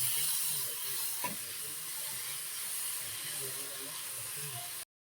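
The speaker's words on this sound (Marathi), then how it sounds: "आता यामध्ये आपण ही जी मटकी आपण घेतली ती घालून घेणार आहोत आणि छान परतून घेणार आहोत" Sprouted moth beans (matki) sautéing in a pan give off a steady, even sizzling hiss that continues at a constant level, with a brief clink of a utensil early on before the sound stops suddenly.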